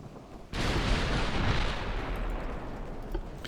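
Battleship guns fire in the naval game Ultimate Admiral: Dreadnoughts, a loud sudden boom that swells into a long rumbling roar and slowly fades over several seconds, with no talk.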